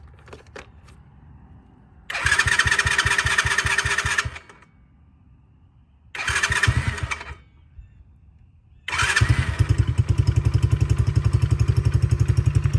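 A Coolster 125 ATV with the choke on is cranked three times, each burst loud and close with a steady pulsing rhythm, the third catching and settling into a continuous running engine.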